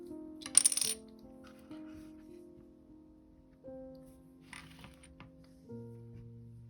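Small gold one-tenth-ounce Britannia coin dropped onto a hard surface, a sharp close metallic clink with short ringing rattle, then a fainter second clink later amid quiet room tone.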